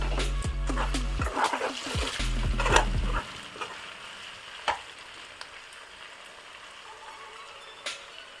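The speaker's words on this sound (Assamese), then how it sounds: "এতিয়া মাংসখিনি এবাৰ লৰাম আৰু ইয়াতে আমি টমেটো পিউৰি দিম" Chicken curry stirred in a pan as tomato puree goes in, with close scraping and soft sizzling in the opening seconds, then quieter frying with occasional clinks.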